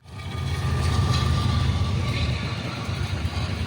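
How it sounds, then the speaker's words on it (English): Two freight trains pass at once in Seligman, Arizona, filling the air with a loud, sustained low rumble and grinding roar that swells in quickly and holds steady throughout. "Got a double train going there."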